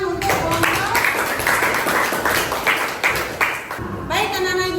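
A class of schoolchildren claps for a student group returning to their seats after a procedure-text presentation, a dense steady patter of hands with a voice speaking over it partway through.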